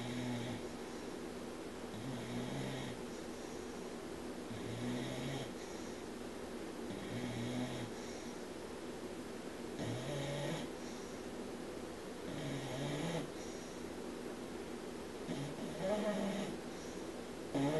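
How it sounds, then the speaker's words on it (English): A dog snores indoors, slow rhythmic nasal snores repeating every couple of seconds, faint and low under a quiet background. "My dog is gracing us with his snoring once again."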